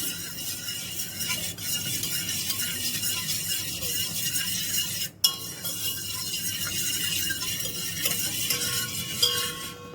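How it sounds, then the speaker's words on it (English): Steady scraping and clinking of a hand whisk working through chocolate cake batter in a bowl, continuous and close, without any speech. "Now we will mix this batter until everything combines perfectly"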